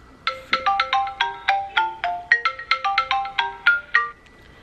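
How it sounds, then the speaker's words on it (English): An incoming call sets off a phone ringtone: a bright, close melodic sequence of about twenty quick chiming notes in a repeating pattern, playing alone and then stopping. "she's calling my phone"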